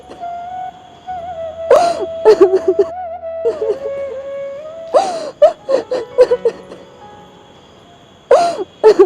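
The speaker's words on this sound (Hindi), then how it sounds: "किसी के रोने की आवाज़ आ रही है वहाँ से।" Someone sobs and whimpers in short broken bursts, wailing cries rising and falling in several clusters over a steady background tone, near and fairly loud.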